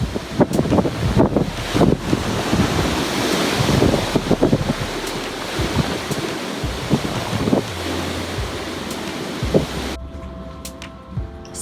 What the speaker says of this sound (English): Take a look at these swells.